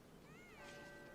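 A house cat gives a short meow, quiet and fairly close, against faint room noise.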